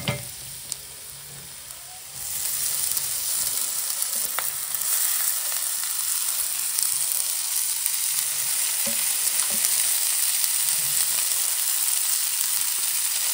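Wild vegetables drop into a hot pan with oil and turmeric, and a loud, steady sizzle and frying hiss begins, with occasional stirring clicks, continuing close and even throughout.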